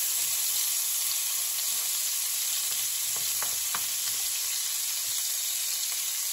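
Onion frying in melted butter in a pan for garlic butter steak, a steady close hiss of sizzling with a few brief stirring clicks partway through and no talking.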